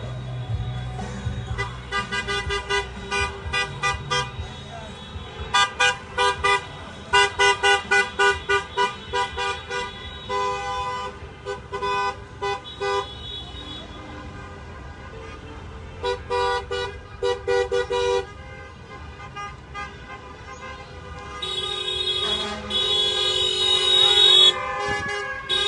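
Car horns honk repeatedly in bursts at a thank-you parade on Staten Island, many vehicles sounding long and short toots, some overlapping, close and loud over street noise.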